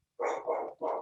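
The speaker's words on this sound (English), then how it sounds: "My dogs are going to have something to say about that in the background." Dogs barking in the background of a home, two or three quick muffled barks in a row, moderately distant and alone without talk.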